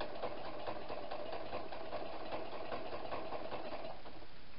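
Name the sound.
sewing machine stitching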